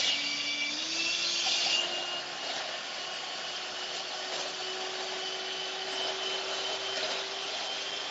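Two egg whites are beaten in a bowl with an electric mixer for a Louise cake, giving a steady motor whine with a shifting pitch that runs continuously at close range, with no talking.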